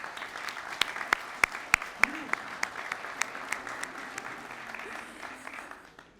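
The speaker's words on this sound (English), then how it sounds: "If we could give them all a round of applause, please." Graduation guests at a Leadership Dubuque ceremony give a round of applause for the sponsors, with a few sharp, loud claps standing out early before the sound settles into a softer, steady patter that fades at the end.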